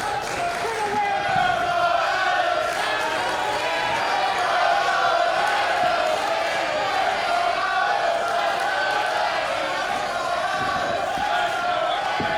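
A crowd at the 2300 Arena cheers and roars steadily through a live women's wrestling match, a loud continuous wall of voices beneath an excited commentator.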